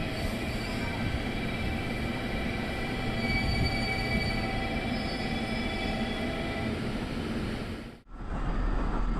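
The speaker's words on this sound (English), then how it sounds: "The rapid train bound for Tosu is heading south on the Kagoshima Main Line." A rapid train bound for Tosu runs south on the Kagoshima Main Line, heard from on board as a loud, steady rolling rumble with a faint wheel squeal, briefly dipping near the end.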